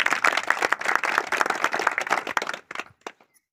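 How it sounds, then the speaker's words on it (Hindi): Audience at a Hindi election rally claps loudly and densely for several seconds, then the applause thins into a few scattered claps and fades out. "एक बार जोरदार तालियों से उनका स्वागत"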